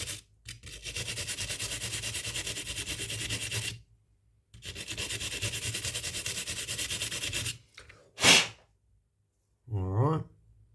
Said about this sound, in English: get a wire brush and clean that up with a wire brush